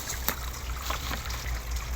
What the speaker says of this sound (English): this place luckily always has 3/4 of the year flowing water.